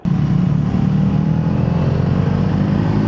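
A Triumph 400 motorcycle, Tracker 400 or Thruxton 400, climbs mountain hairpins carrying two riders, its engine a loud, steady, close-up drone with heavy wind rush and no speech.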